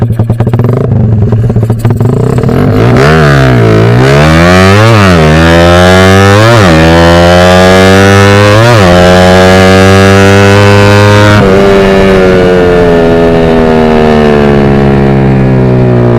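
A motorcycle engine revs repeatedly, pitch rising and falling with each throttle blip, then climbs steadily in a sustained loud acceleration.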